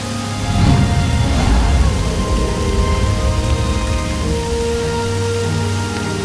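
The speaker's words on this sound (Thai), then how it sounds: "มีฝนตกพรำตลอดเวลา" Steady drizzling rain falls continuously, a dense, even wash of droplets with a faint low rumble beneath, at a constant level throughout with no voices.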